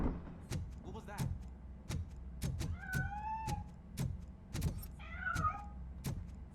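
A cat meows in a Robocop Rogue City game scene, several short rising mewing calls near the middle and again toward the end, set among repeated sharp thuds and clicks from the game.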